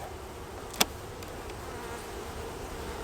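Honeybees buzzing softly during a hive inspection, a faint steady hum with one brief sharp click from handling a frame.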